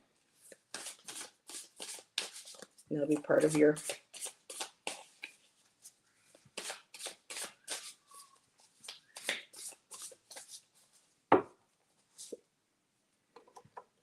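A brief burst of tarot card shuffling, a quick riffling flutter lasting about a second, set among steady speech before and after.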